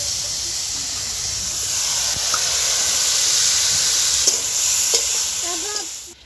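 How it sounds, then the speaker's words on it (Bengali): Potatoes fry in a wok at an outdoor picnic, giving a loud, steady, hissing sizzle that swells slightly and then holds, with a few faint clinks near the end and no talking. "আলু ভাজাটা হচ্ছে"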